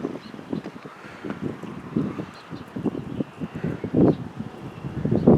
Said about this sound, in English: Because how windy it is, you know.